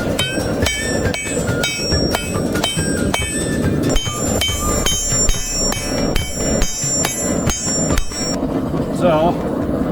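A hammer strikes hot steel on an anvil in a fast, even rhythm of loud ringing blows while forging the bevels of a copper Damascus chef's knife, with the metallic clangs sustaining between hits before stopping near the end.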